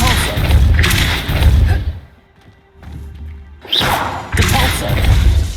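Heavy thuds and crashing blasts from Depulso spell impacts in Hogwarts Legacy come in loud bursts, with a quieter gap in the middle.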